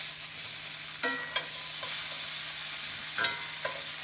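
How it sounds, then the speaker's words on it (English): Steak searing in a hot pan gives a steady, close sizzle and hiss, with a few brief scraping and clinking touches as the meat is moved, and no talking. "So we'll just get a sear on both sides of this."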